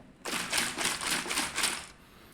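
A container of water is shaken rapidly in a steady rhythm, giving a bright, hissing rattle-and-slosh for about two seconds, close and moderately loud.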